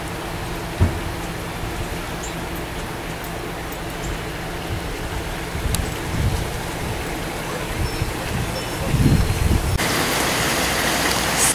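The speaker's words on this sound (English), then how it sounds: "Gusty winds, light rain from Tropical Storm Lee." Steady light rain from Tropical Storm Lee hisses all around in Louisiana Cajun country, with occasional low gusts of wind rumbling through and a slight swell near the end.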